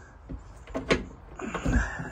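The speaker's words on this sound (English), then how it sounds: "Let me go ahead and close the door" A door on a 2001 American Tug 34 trawler yacht closes with a few close knocks and rattles, then a sliding thud as it shuts.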